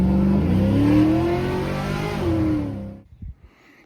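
An American-made V8 Chevrolet C10 truck roars through a burnout, its engine revving hard and climbing in loud, sustained surges before cutting off abruptly into near silence.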